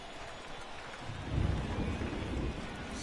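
Rain and thunder from a stormy ballpark in the baseball video game MLB The Show 22: steady rain hiss with a low rumble swelling midway, faint and without talk.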